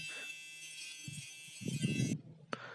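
An electric hair clipper trims beard hair near the ear with a steady, close, harmonic buzz. The buzz cuts off near the end, followed by a short rustle and a soft knock.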